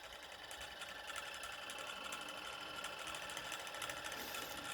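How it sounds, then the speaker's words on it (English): A Bedini circuit motor runs on a test stand with a potentiometer and switch, giving a faint, steady whirring hum with a fast mechanical buzz that continues throughout without speech. "so let's test the Bedini circuit."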